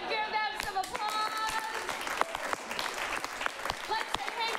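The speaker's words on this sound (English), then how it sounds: "And give them some applause." Audience at an improv comedy shootout show applauds steadily, a dense wash of clapping lasting the whole stretch, loud and close, with no voices over it.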